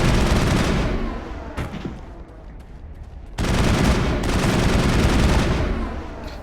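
Sniper gunfire in the Mass Effect video game, dense heavy blasts that roar continuously, dip briefly and then surge loud again, with no talking.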